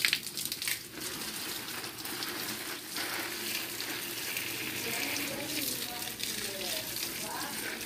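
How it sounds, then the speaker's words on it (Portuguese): Water pours steadily onto a potted plant in a home setting, a continuous splashing hiss lasting several seconds with faint talk underneath. "Jogar água nele"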